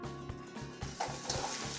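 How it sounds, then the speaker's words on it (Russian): Chopped onion frying in vegetable oil in a pan: a steady close sizzle with soft scraping as it is stirred, continuous and moderately loud, no voices. "Обжариваем лук до готовности. Постоянно помешиваем и не даем ему подгореть."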